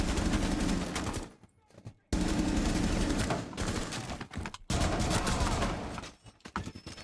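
Full-auto rifle fire in Rainbow Six Siege rattles out in long, dense, loud bursts, broken by a couple of short pauses between strings of shots, with no voices.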